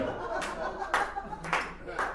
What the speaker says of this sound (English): Applause break back there.